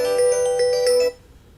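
A telephone rings loudly with a bright electronic warble, one long ring with pulsing overtones that stops abruptly, leaving a quiet low hum behind.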